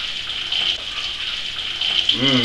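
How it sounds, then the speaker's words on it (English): Two litres of water pouring into a thick-based pan for rye bread kvass, a continuous splashing gush up close that swells slightly near the end, no speech. "So in goes 2 litres of water, just enough to hopefully cover this all up."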